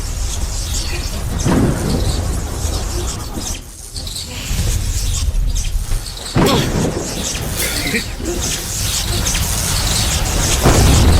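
Loud, crackling thunder effect from a lightning attack in an animated fight scene, with booming rumbles and sharp bursts rising and falling over about eleven seconds, with rain-like hiss throughout.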